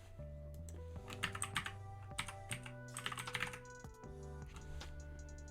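Typing on a computer keyboard, a quick run of soft key clicks over a steady musical background, close but fairly quiet.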